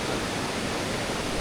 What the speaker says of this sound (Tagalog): Malakas masyado yung alon